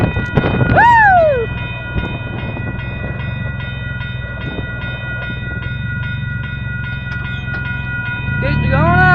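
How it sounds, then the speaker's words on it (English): An Amtrak passenger train passes close by a crossing, its horn blaring loud at the start over the steady rumble and clatter of the cars rolling past, with the noise swelling again near the end. "when the Amtrak train goes by"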